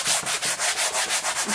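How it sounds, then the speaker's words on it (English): Sandpaper rubbing back and forth over a dried canvas being reclaimed, a close, loud, rhythmic scratchy rasp with about eight even strokes. "grab a bit of sandpaper and just rub over it a bit"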